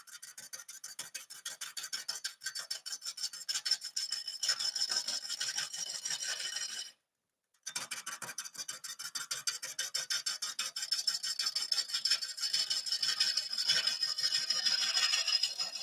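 A yew hollow form spins on a wood lathe while a tool scrapes and cuts the timber, a rapid, rhythmic rasping that runs close and steady, cutting out for a brief silent gap midway before resuming.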